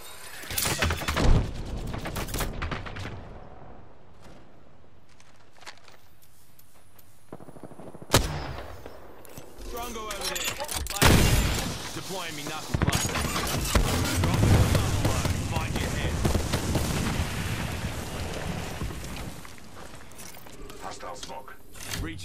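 Gunfire in the video game Apex Legends: bursts of automatic fire and single loud shots, separated by a quiet stretch early on, then dense, sustained shooting with mechanical clatter and in-game voice lines mixed in.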